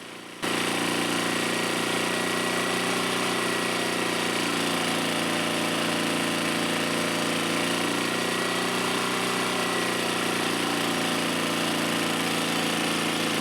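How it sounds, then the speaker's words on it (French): A small generator engine, its HHO kit disconnected, runs steadily and loudly up close, a constant rough droning hum with no change in pace. "on entend bien que le moteur tourne différemment et qu'il force moins quand on débranche le kit"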